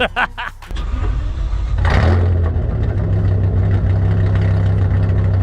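Supercharged BMW M5 Luma CLR 730 RS engine starting up after a few brief clicks, then a loud, deep, steady idle rumble close by.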